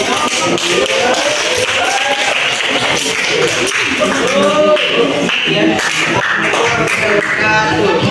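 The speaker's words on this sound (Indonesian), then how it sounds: "Oke, beri aplaus untuk" An audience claps in sustained applause after a class presentation, a dense, loud patter of many hands continuing throughout with no gaps.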